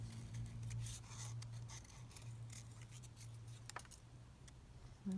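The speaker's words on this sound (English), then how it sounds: "probably even cut that flower straight out now" Small scissors snip a flower out of paper, a run of quick, close crisp cuts over a low steady hum, with no talking.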